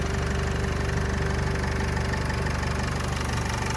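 A 2013 Renault Trafic van's 2.0-litre 115 hp engine idles steadily up close, with a low, even rumble and a faint rhythmic knock throughout.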